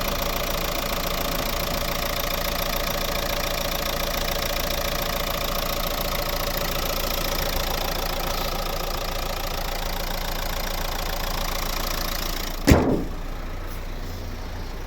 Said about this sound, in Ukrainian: Класно працює двигун,